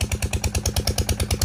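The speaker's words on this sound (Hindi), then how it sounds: "और ये पीटर इंजन चल रहा है और इसकी मदद से पानी दिया जा रहा है" A Peter engine pumps irrigation water to farm fields, its steady rhythmic chugging thumping about nine times a second, close and loud with a clattering mechanical edge and no voices.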